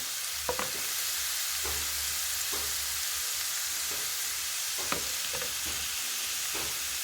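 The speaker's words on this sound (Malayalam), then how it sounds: "അതോടുകൂടി നമ്മൾ ഇഞ്ചി വെളുത്തുള്ളിയും ഇട്ട് കൊടുത്തു. ഇതൊന്ന് നന്നായിട്ട് വഴറ്റിയെടുക്കണം." Ginger and garlic sauté in a pan under a loud, steady hiss of frying, with occasional light utensil taps and scrapes from stirring; no voices are heard.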